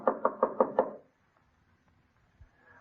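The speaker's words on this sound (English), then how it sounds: "I had to knock." A fist raps on a door five times in quick, evenly spaced knocks, loud and close, then falls silent in a quiet room.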